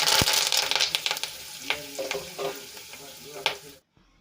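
Cumin seeds, curry leaves, dried red chilli pieces, cinnamon and cloves sizzle in hot oil for tempering: a loud, steady crackle dotted with sharp pops and spatula clinks that cuts off abruptly near the end.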